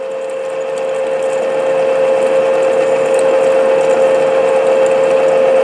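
A drill bit bores into a wooden whistle blank, giving a steady, loud, close whine of even pitch for several seconds, with no talking.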